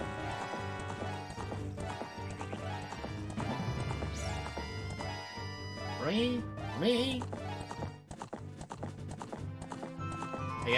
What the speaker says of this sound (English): I summon horse.